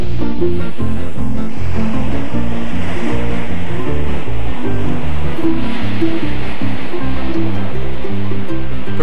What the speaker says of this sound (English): eventually you may be ready to try the roaring surf on the north shore of Oahu